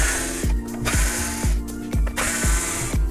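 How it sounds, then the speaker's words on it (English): Screws being backed out of an Xbox One console that had been opened before, heard as short, close whirring bursts repeating about twice a second with small clicks between them and no talk. "we're going to remove the rest of the screws on this Xbox right here"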